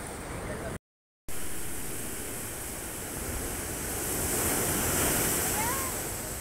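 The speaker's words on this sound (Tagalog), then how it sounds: "Grabe lakas ang alon doon, oh." Strong ocean waves crashing on a shore, a broad continuous roar of surf swelling louder toward the end, heard up close with wind buffeting the microphone and a brief dropout early on.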